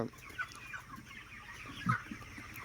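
Broiler chickens on a poultry farm cluck and murmur softly in a steady, distant chorus, with a few clearer clucks standing out briefly.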